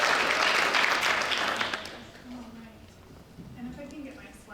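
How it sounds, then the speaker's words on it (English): An audience at an academic talk applauds a professor, with strong clapping at first that dies away within two seconds as voices murmur nearby. "so let's give her a round of applause"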